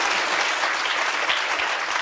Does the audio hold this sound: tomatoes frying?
no